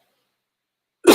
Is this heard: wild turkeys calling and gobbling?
no